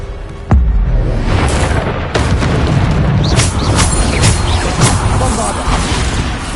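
A Bombarda spell in Hogwarts Legacy goes off with a loud, sudden boom, followed by sustained rumbling blasts and crashes, with a voice heard in the mix.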